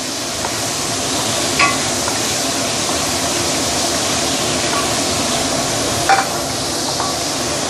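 Pork pieces sizzle steadily in a pan of oil for sweet and sour pork, a dense crackling hiss throughout, punctuated by a couple of sharp clinks of a utensil.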